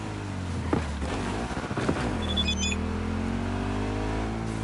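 A Delamain car driving in Cyberpunk 2077, its engine humming steadily and shifting pitch as it speeds along, with a couple of brief thumps early on and faint electronic chirps over the continuous drone.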